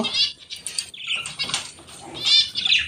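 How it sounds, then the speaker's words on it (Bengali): Small birds flutter their wings in quick, repeated bursts of soft flapping, mixed with faint high chirps nearby. "এই দেখো ফিঞ্চগুলো ওড়াউড়ি শুরু করে দিয়েছে"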